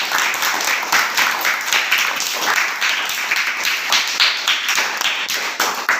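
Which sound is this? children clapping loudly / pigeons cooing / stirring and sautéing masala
children clapping loudly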